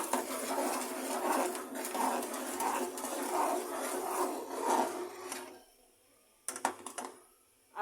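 Homemade ketchup being stirred after sugar and spices go in, a rhythmic close scraping and rubbing of a spoon around a pot that stops, followed by a few sharp clicks.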